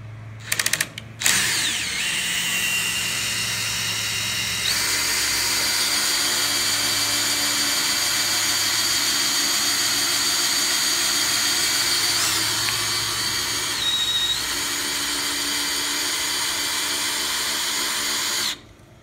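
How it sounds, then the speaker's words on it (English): A DeWalt power drill whirs steadily for a long stretch, close and loud, its pitch shifting slightly as it cranks a trailer tongue jack before cutting off. "just hook a drill to it."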